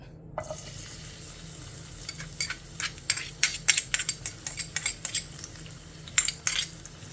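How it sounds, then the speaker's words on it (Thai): Garlic frying in about a spoonful of oil in a pan over medium heat gives a soft steady sizzle under a run of sharp spatula scrapes and clinks against the metal. "เราใช้ไฟกลางก็พอนะ ตอนที่เจียวกระเทียมนะครับผม"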